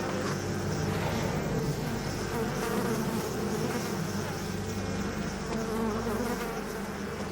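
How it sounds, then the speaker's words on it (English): Dense swarm of black flies in the Northwest Territories wilderness, a continuous close, loud droning buzz with overlapping wingbeat tones that never lets up, no voices over it. "Never seen black flies like this in my life."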